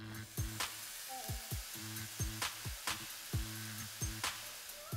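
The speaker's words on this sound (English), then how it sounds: "get your oil in and start sweating them onions" Onions sweat in hot oil in a pan for a pea risotto, a soft continuous sizzle under a recurring rhythmic clatter of a spoon or pan being moved.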